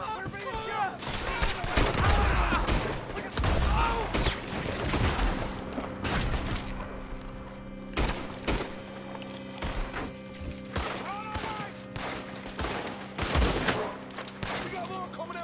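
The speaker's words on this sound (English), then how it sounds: "We're being shot!" Red Dead Redemption 2 gunfight: repeated rifle and pistol shots crack in irregular bursts, some near and loud, others more distant, with voices shouting over the firing throughout.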